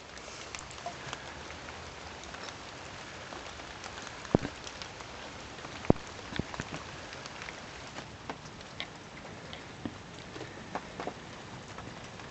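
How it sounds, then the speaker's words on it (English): Heavy rain falls steadily on a tipi, a dense constant patter with scattered sharper drips and taps against the canvas, continuous and close, with no talking. "Well, it's just constantly for hours upon hours, just heavy rain."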